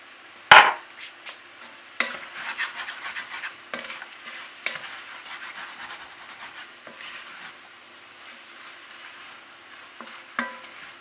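Potatoes frying in oil in a pan for vegan patatas bravas, a steady close sizzle with scattered crackles and a few sharp clatters of stirring, no voices.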